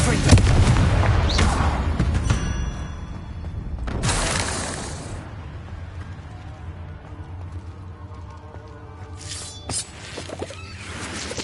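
Confringo spell blasts in Hogwarts Legacy, heavy booming explosions with crackling debris, several loud bursts spaced apart amid in-game noise.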